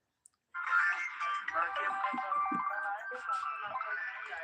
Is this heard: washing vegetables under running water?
no